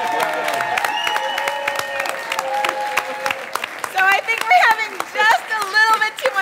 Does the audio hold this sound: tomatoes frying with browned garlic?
no